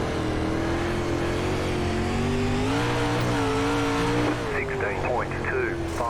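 Dirt late model race cars at Lernerville in iRacing, engines droning loudly and continuously with shifting pitch as the pack circles, a steady roar throughout with a few higher whining tones near the end.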